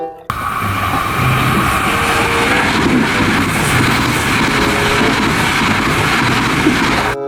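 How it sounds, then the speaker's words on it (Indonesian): A large toy electric train hums and rattles steadily, a continuous mechanical whir with faint clicking, running on alone without talk. "Kita dapat kereta api listrik."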